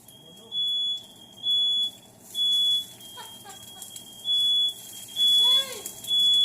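A kitchen smoke alarm set off while eggs are cooking sounds a loud, shrill steady beep in a regular on-off pattern, with people talking between the beeps.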